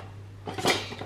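A small kitchen cutlery drainer is picked up and set down with a single brief, close plastic-and-metal clatter over a quiet background hum.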